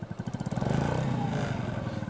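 A Kymco KPW 50cc motorbike engine revs up close, a rapid putter swelling into a steady buzzing drone that holds loud, then eases slightly with a flutter near the end.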